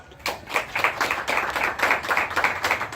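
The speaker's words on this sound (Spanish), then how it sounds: "Y señora, un aplauso." A small audience at a cultural expo in Areguá claps in a brisk, fairly close burst of applause lasting a few seconds, individual hand claps clearly audible in an uneven rhythm.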